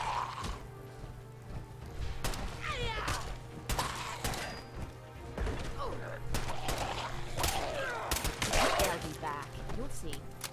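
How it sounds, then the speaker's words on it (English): Pistol shots in Fallout 4 come as a string of sharp cracks and thuds spread through the scene, mixed with game sounds and someone talking over them. "I'm gonna use the pistol and try and get headshots"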